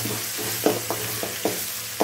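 Crushed ginger and garlic fry in a hot pan for tomato rice, a steady close sizzle broken by a stirring scrape roughly every half second.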